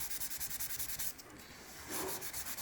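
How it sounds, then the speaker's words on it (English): Steady, close rubbing strokes of color being worked into raw bamboo wood flooring, a rhythmic dry scuffing that briefly pauses and then resumes. "So I'm just gonna color it in a little. I mean, not too heavy, and then just kind of rub it in."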